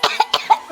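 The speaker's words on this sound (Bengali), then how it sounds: "কাশি চলে এসেছে।" A person coughs in a quick burst of about four sharp, close coughs, each a short harsh bark of breath, spaced closely together with no talking.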